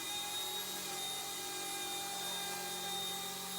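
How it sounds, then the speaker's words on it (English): An Eachine E120 BO-105 RC toy helicopter flies indoors, its steady high-pitched rotor and motor whine holding constant and fairly close throughout with no talk. "So this is the biggest heli I've ever flown in here."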